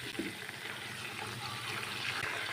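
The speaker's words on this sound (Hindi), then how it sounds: "थोड़ा सा पानी शामिल करेंगे।" Water poured into a cooking pan while making spiced potato cutlets, a steady hissing splash heard close up and alone for a couple of seconds.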